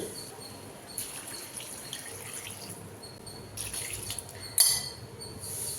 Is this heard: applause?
no